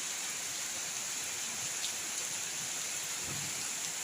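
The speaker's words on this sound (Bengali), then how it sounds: "বৃষ্টি চলছে অবিরাম বৃষ্টি চলছে" Steady rain pours down without pause, a dense, even hiss of drops on surfaces with no voices.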